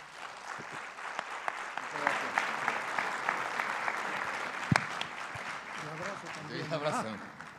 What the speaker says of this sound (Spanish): le brindemos un caluroso aplauso